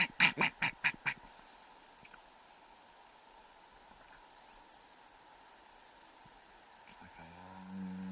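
Ducks at a cold lake give a quick run of about five loud quacks close by, followed by steady outdoor background noise and a low rumble near the end.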